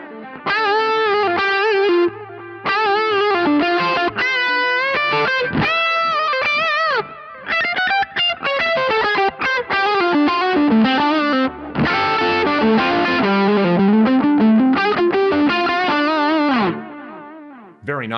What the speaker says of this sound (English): So at the stock settings, you have that very creamy overdrive thing going on.